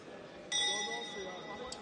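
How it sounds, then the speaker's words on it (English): At a chessboxing world championship in Riccione, a boxing round bell gives one clear ring with a sustained metallic tone that slowly decays, heard over low arena murmur. "Bell rings, gloves touch, and here we go."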